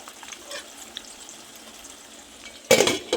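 Raw mango, tomato, garlic and green chilies fry in oil in a pan with a soft, faint sizzle, a few light clinks of stirring, then a sudden loud burst of crackling spatter near the end.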